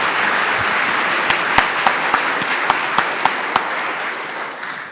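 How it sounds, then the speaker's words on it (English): Audience applause at a PyCon UK 2023 conference lightning-talks session, sustained steady clapping from a crowd, with a few sharper individual claps standing out near the front. "Big round of applause, please."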